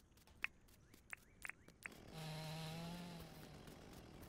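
A chainsaw in the farming game Dinkum starts up after a few faint taps and clicks, then settles into a steady, buzzing engine drone that holds for about two seconds before tapering off, quiet overall.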